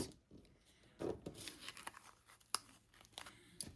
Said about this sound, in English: and then you're going to use your scissors